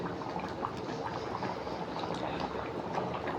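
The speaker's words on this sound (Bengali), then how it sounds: "ডালটা প্রায় ফুটে গেছে" Lentil dal simmering in a cooking pot, giving a steady, soft bubbling hiss with faint popping that runs evenly throughout, close and fairly quiet, with no talking.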